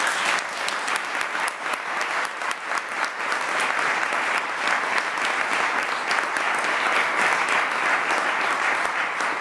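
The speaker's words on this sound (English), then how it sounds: "Let's give them all a round of applause." A large audience claps at a Law Day awards ceremony honoring public servants, a full, sustained burst of applause that stays loud and even from start to finish without any voices.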